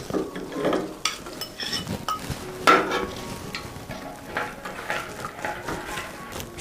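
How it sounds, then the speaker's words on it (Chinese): Brown sugar stirred into hot water in a bowl for steamed rice cake, a steady close scraping swirl with occasional light clinks of the utensil against the side. "我们先用热水把红糖融化开"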